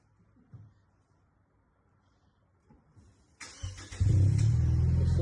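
A Lexus RC 300 F Sport with an APEXI catback exhaust sits quiet at low idle, then roars up in a loud, deep rev after a few seconds, holding strong toward the end.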